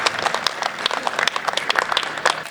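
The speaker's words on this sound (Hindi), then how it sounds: "जोरदार तालियां" An audience at a stage poetry event gives a poet a hearty round of applause: dense, steady clapping from many hands, close and fairly loud, lasting the whole short stretch.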